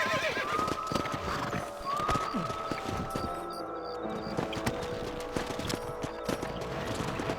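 Horses in the Red Dead Redemption video game, hooves clip-clopping at a run with several drawn-out neighs and whinnies over busy game ambience.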